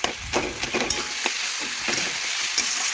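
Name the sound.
fish head stirred and fried with spices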